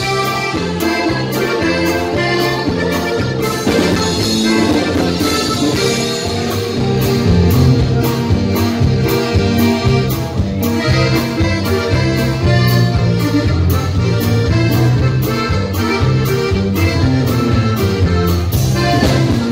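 A norteño band plays a corrido, loud and continuous, with accordion melody over a steady bass and drum rhythm throughout, no talk.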